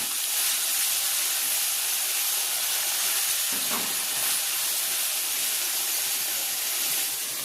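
Potatoes cook in a hot pan with turmeric, giving a steady, loud, even sizzling hiss that continues without a break and has one brief soft disturbance partway through.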